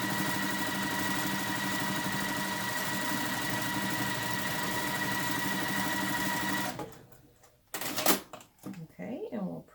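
Sewing machine running a long continuous seam, a steady close mechanical whir for several seconds before stopping abruptly, followed by a few handling clicks and soft knocks.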